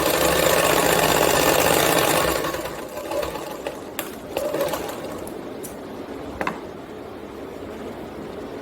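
A sewing machine stitches a blouse, running in a loud steady whir for about two seconds, then stopping and restarting in softer, shorter bursts with a few sharp clicks.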